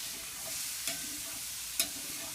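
Food being stirred in a hot pan on a grill, a soft steady sizzle with a couple of sharp scrapes of the utensil against the pan, quiet and close.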